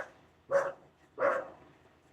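Dog barking from a neighbouring house: two distinct moderately faint barks about half a second apart, with no talk over them.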